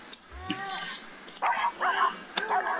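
A pet dog in the video game The Sims 4 gives a few short yips and whimpers in quick bursts, moderately loud, with a voice speaking briefly alongside.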